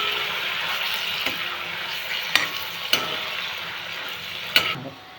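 Taro greens fry in overheated oil in a kadai, a dense steady sizzle with a few sharp clacks of a stirring spoon against the pan.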